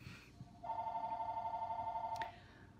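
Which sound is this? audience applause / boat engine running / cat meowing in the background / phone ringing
phone ringing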